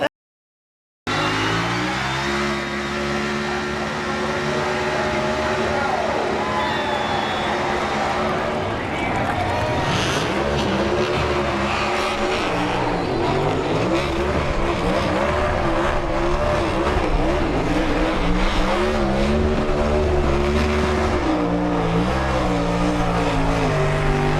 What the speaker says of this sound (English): Got a little extra credit burnout going on here.